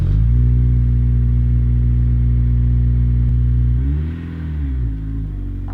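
A Honda Integra Type R DC5 engine drones steadily and loudly at near, constant revs while driven to warm the gearbox oil. The pitch dips and rises briefly near the end as the revs change.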